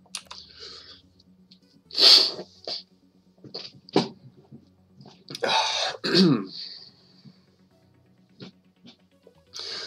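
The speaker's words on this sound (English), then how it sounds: "This is a cut because I gotta blow my nose." A person blows their nose in a few short, sharp nasal bursts with sniffs between them, close to the microphone in a quiet room.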